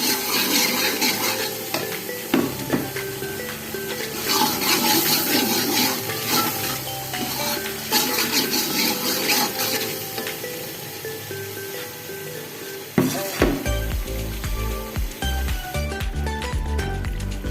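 Masala spices of turmeric, salt and red chilli fry in a pan for kadhi pakoda, a continuous crackling sizzle with steady scraping and stirring strokes, louder clatter near the end, no speech.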